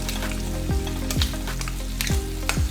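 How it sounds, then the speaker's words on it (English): Shrimp and steak pieces for a dog's surf-and-turf meal sizzle and simmer in a pan, a steady frying hiss broken by several sharp scraping clinks as they are flipped, with no voices. "we can flip these and just let those simmer"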